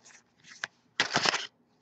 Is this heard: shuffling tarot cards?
yes